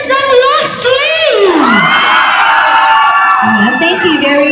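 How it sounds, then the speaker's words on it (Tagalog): Fans at a grand opening yell and cheer loudly in a dense crowd, with high shrieks and whoops and a sweeping shout, sustained and close throughout. "Sumigaw lahat ng fans ng Brixton!"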